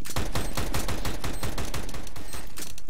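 Rapid sustained gunfire in the video game CS:GO, a dense stream of close, loud automatic shots in steady quick rhythm with no voices over it.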